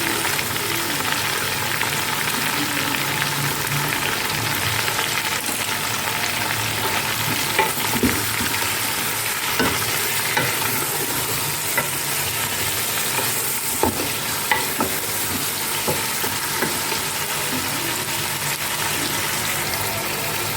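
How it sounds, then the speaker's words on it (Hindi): Chicken frying with onions in a pot for pulao gives a loud, dense, unbroken sizzle at close range, with occasional soft knocks of stirring and no voices. "अब ये प्याज में मैंने वो चिकन डाल दिया था।"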